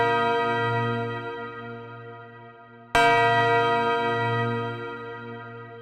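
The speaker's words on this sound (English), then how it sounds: "So this is a sample of some bells." A resonant bell sample from Ableton Live's library strikes and rings out, slowly decaying, then is struck again and rings with the same steady pitch.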